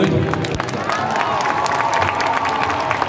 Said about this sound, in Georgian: კიდევ ერთხელ აპლოდისმენტები გამაგონეთ